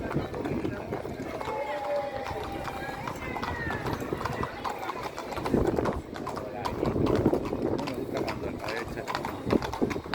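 Horse hooves clip-clop in an irregular, steady rhythm close by at the Tres Tombs festival in Vilanova i la Geltrú, with people talking over them throughout.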